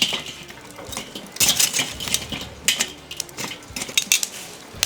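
Lit charcoal tipped from a chimney basket onto a barbecue grill for chargrilling lamb chops, a run of close, bright clinks and rattling scrapes with a few sharper clatters as the lumps tumble and settle.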